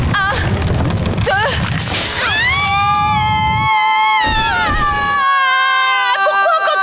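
People scream in sustained, wavering cries while falling after jumping from a collapsing place, the voices loud and close over a rumbling crash and crowd noise that drops out briefly.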